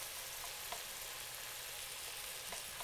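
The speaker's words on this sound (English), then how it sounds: "Saute that real quick." Onion sautés in a hot pan with a continuous bright sizzle, close and even, with faint crackles now and then and no voices.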